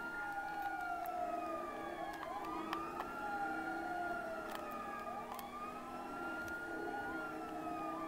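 Police car siren in a video game, a continuous wailing tone sweeping up and down loudly and steadily throughout, with several overlapping siren layers and occasional sharp clicks.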